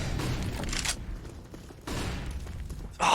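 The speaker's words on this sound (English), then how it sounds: "And with that flashbang" A flashbang grenade pops during a Counter-Strike match on the Overpass map, amid scattered gunfire and game noise with sudden bursts of louder activity.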